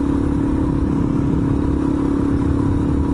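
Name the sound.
Suzuki DRZ400 motorcycle riding and shifting gears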